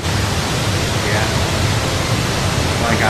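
Continuous broadband rush of a waterfall in Tales of Zestiria, a steady, loud, even roar filling the whole clip with no break.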